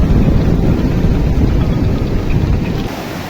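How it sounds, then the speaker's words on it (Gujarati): The swollen Bhadar river rushes in a strong, continuous roar, a dense broadband wash mixed with wind buffeting the microphone, with no voices. "આ ભાદર નદી છે જોરદાર પાણી છે ભાદર નદીમાં."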